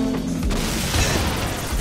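Rocket blasts in the video game Saints Row IV fill the space with a loud, continuous booming roar and rumbling debris for about two seconds.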